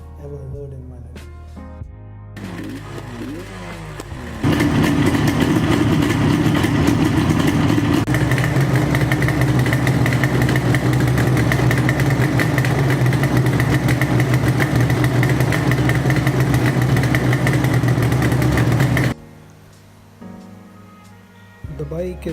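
A restored motorcycle engine runs loud and steady for about fifteen seconds, a rough mechanical clatter with a constant low drone, framed by quieter idling at the start and end.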